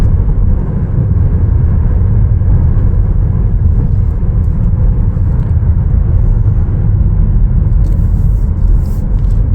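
Steady low road rumble and engine hum from inside a moving 2024 Chevrolet Trailblazer AWD SUV, continuous and fairly loud, with no voices.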